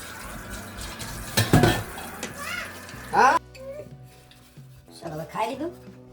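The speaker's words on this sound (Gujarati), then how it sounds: "વારો વારો છે વાસણ ઘસવાનો તો ઘસી નાખું" Dishes being scrubbed and rinsed at a sink in London, with clattering pots and splashing water, while a person and someone talk in between.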